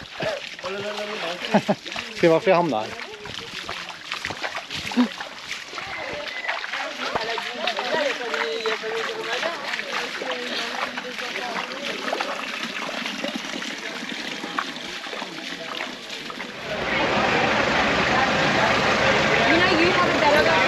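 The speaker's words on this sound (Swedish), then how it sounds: "Men vi fortsätter vår vandring här i bäcken." Someone wading along a stream sends up irregular splashing and trickling water close by as someone talks, then a steadier rush of flowing water takes over near the end.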